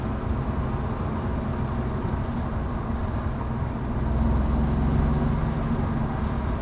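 A 240k-mile BMW E46 wagon on new Meyle control arms drives along, its engine and road noise a steady low rumble that swells slightly near the end.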